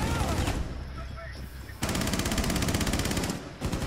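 Bursts of automatic gunfire in a Rainbow Six Siege match, with a rapid burst early on, then a longer sustained stream of shots, and a final burst at the end.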